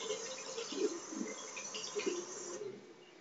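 Running tap water splashing softly as the tip of a make-up brush is held under the stream, a gentle steady trickle that cuts off near the end.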